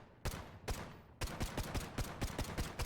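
Glock 17 9x19mm pistol fired in the video game Delta Force Hawk Ops: a rapid string of about a dozen sharp, loud gunshots, two spaced shots, then a quick steady volley, close and with no talk.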